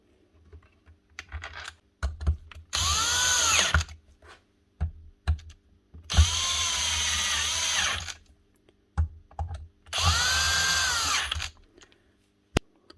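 Power drill driving bolts on the motor of a Dewalt DCS557 54V/60V saw under repair: three sustained whirring bursts with audible speed changes, separated by clicks and clunks of handling, close and loud, with no talk.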